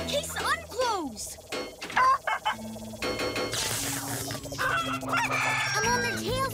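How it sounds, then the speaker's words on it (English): Animated chickens cluck and crow repeatedly in quick bursts, loud and close, layered over cartoon music and sound effects. "We're chasing down some chickens."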